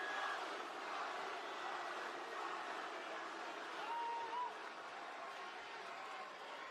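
A wrestling arena crowd at a WWE SmackDown event cheering and applauding in a dense, distant-sounding roar that stays steady throughout, with a voice speaking over it.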